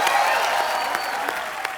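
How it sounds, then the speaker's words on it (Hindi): Studio audience clapping on a comedy show, a steady burst of applause that holds through the whole moment and eases slightly toward the end. "एक बार नेहा सोहा के लिए जोरदार तालियां।"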